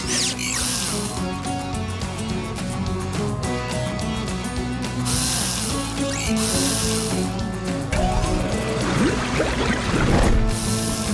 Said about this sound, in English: Rocky, use your tool arm to loosen the screws.